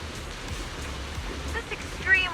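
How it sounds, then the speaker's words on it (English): Wind and rain in the Zenless Zone Zero game, a soft steady patter and hiss of rainfall with light gusts, faint and continuous, ending in a brief brighter swell. "The wind and rain are picking up."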